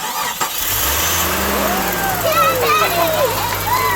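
Jeep Cherokee XJ with the 4.0 engine cranking and catching on its first start, then a rough idle with rising revs, close and loud, with a voice over the engine.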